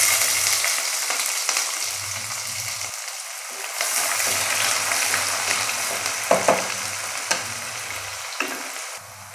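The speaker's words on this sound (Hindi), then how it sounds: "प्याज डाल देंगे अब।" Finely chopped onion, medium-sized, fries in a pan for rajma masala curry, with loud close sizzling and crackling broken by stirring scrapes and brief pauses, no voices over it.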